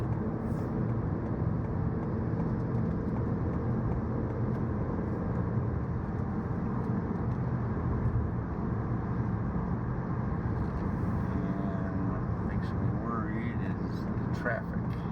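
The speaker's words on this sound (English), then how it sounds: "Traffic." Road traffic passes in a steady, continuous rumble, with cars going by at speed and a faint whoosh late on.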